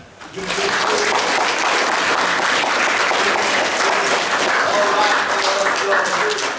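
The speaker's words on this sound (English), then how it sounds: "So give a round of applause to Doug." A crowd at a football camp applauds steadily for several seconds, dense clapping filling the room without pause.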